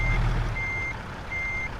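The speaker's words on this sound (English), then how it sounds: "Now see you can hear the air brakes going." Truck air brakes in American Truck Simulator, heard as a loud steady hiss of released air under a low engine rumble, with a repeated high reversing beep pulsing through; no talking.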